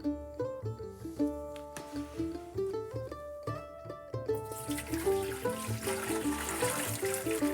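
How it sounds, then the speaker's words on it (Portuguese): Soaked chickpeas are strained, their soaking water pouring and splashing through a strainer in a kitchen, a continuous wet rush that swells louder in the second half, with soft music underneath. "Eu tenho uma água aqui, eu vou coar esse meu grão de bico."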